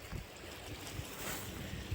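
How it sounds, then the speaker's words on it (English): Bear Creek flows steadily as a soft, continuous wash of moving water in the woods, faint and even, with light wind buffeting the microphone and no voices. "So this is Bear Creek"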